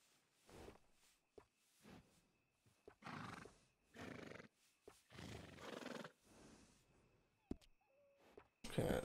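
A horse neighs and snorts in a stable setting in Red Dead Redemption 2. The calls come as several separate bursts with quiet gaps between them, moderately close, and a sharp short sound near the end.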